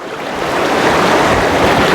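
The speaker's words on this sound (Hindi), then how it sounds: "कितना तेज नदी का बहाव चल रहा है।" A fast, swollen river, muddy after recent rain, rushes past the bank below the Jwalpa Devi temple in Pauri Garhwal, a loud, dense and continuous roar of churning water.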